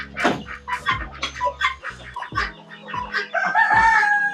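Country chickens and fighting roosters on a farm in Theni cluck in short bursts, then a rooster crows loudly near the end. The calls come close by, with no talk over them.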